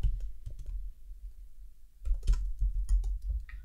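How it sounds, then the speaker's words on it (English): Typing on a computer keyboard, with irregular clicking keystrokes, a short burst at the start, a pause, then a denser run of key taps close up. "So we're going to type in gym and spa."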